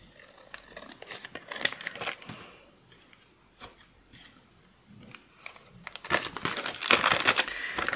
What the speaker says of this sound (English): I'm going to just cut it open like that on those two sides.